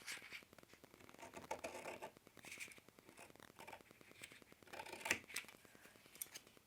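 Scissors snipping down through a mini paper pad to trim it by half an inch, a close run of crisp, rhythmic cuts with light paper rustle and one sharper snip near the end.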